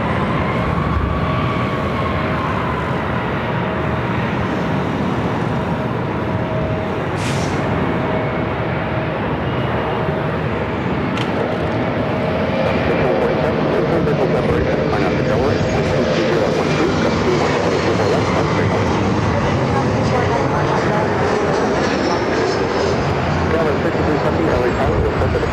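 An Airbus A321 airliner taking off at LAX, a loud, continuous roaring jet engine rumble that holds steady with a faint rising whine, with brief speech over it.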